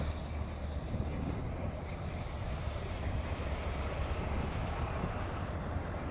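Steady roaring wind buffets the microphone throughout while riding a Yamaha Fazzio 125 scooter, layered over a low continuous engine rumble, with no voices.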